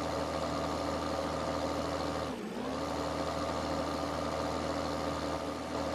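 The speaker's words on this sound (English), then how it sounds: "So we're going to run this tractor over here." An IH Series 86 tractor engine runs in the video game Farming Simulator 2013, a steady, loud droning hum with a brief dip in the middle, no voices over it.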